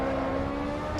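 A racing car engine driving in Assetto Corsa, with Ferrari and BMW at Monza and the Nurburgring: a steady, close, droning engine note holding constant throughout, with no talk.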